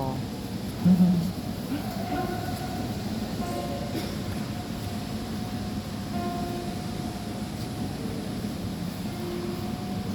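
A train rumbles steadily into a station with a low continuous roar and faint tonal squeals, while a voice speaks briefly.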